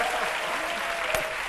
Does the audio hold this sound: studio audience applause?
yes